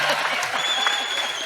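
An audience claps for an elderly woman at an interview event, a brief burst of crisp, dense applause close by, with a voice speaking over the clapping.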